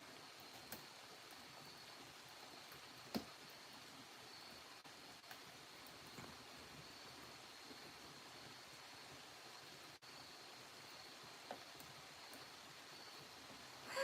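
Steady rain falls outside at night, a soft even hiss with a few faint ticks and taps scattered through, constant and fairly quiet with no voices.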